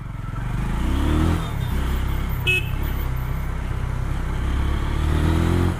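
A Kawasaki Z250 or Benelli TNT25 motorcycle rides along Mumbai roads, its engine droning loud and steady in gear with some wind rush, and a brief horn-like tone partway through.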